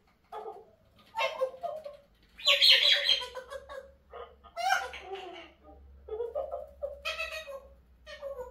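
A cheeky pet parrot lets out a string of squawking, chattering calls in several loud bursts close to the listener, with short pauses between them.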